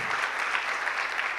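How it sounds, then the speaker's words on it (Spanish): Steady applause fills a church, a dense continuous clapping from a congregation lasting the whole short stretch without a break. "Denle un fuerte aplauso a nuestro Dios."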